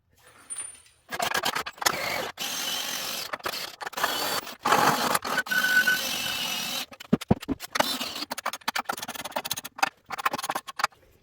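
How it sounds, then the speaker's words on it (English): A homemade 8-inch wood press has its screw tightened down, giving close, irregular bursts of scraping, creaking and ratcheting mechanical noise separated by short pauses. "bring it all the way down, tighten it all up nice and tight"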